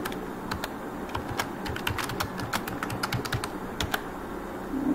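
A new root password being typed on a computer keyboard: rapid, uneven clusters of crisp key clicks, close and clear, with no voices.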